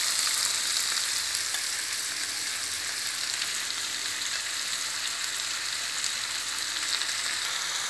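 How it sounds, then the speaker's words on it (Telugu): Onions, fenugreek seeds and garlic frying in a pan, a dense, steady hiss of sizzling oil held at an even loudness throughout, close and unbroken with no voices. "మనకి ఉల్లిపాయలు, మెంతులు, వెల్లుల్లిపాయలు, మెంతులు వేగినవి."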